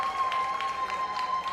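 Audience at a performing arts awards ceremony applauds after a vocal performance, a continuous moderate patter of many hands clapping, fairly distant and even, with a faint steady tone in the background.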